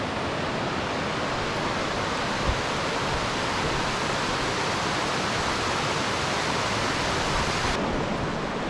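A waterfall in Spearfish Canyon, a constant broadband rush of falling water heard up close, steady and loud with no voices.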